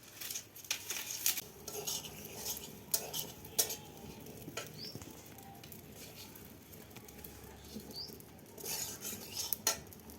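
Semolina (suji) being stir-fried in a home kitchen pan, with repeated scraping and clinking of a spoon against the metal and a soft sizzle underneath, close and moderately loud, no talking.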